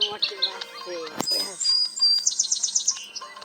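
Shrill chirps and squawking parrot calls, with a sharp clatter midway and a rapid series of high whistled notes near the end.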